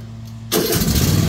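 Cub Cadet XT2 LX46 lawn tractor engine cranking and catching, a low idling hum suddenly jumping into a loud, close running roar after half a second.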